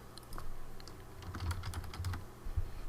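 Quick run of keystrokes on a computer keyboard as a page name is typed, light irregular clicks close by with no talking.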